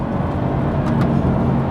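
A BMW 240 car accelerating hard in first gear, a dense, loud, continuous engine roar with no pauses over a short stretch.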